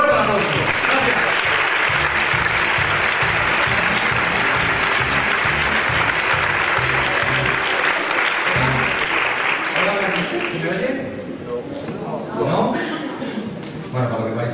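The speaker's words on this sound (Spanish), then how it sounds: "¡Fuerte aplauso!" A loud, dense round of audience applause before a comedy monologue, sustained for about ten seconds and then tapering off as a voice begins speaking.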